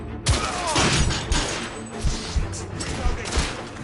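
Gunfire from a coach gun in the video game The Order: 1886, several loud blasts at irregular intervals amid a dense, busy battle mix, with voices shouting over it.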